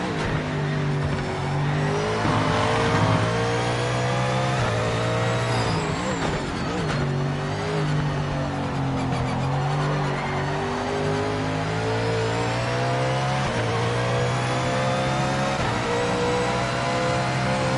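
GT3 race car lapping a circuit in Project Motor Racing, the engine droning and revving through gear changes with steady pitch climbs and drops, loud and continuous for the whole lap section with no talk.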